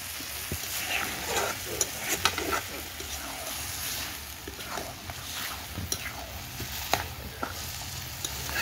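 Chicken is stirred and fried in a pan, a steady sizzle broken by scraping and clattering stir strokes at irregular intervals, close and moderately loud, with no speech.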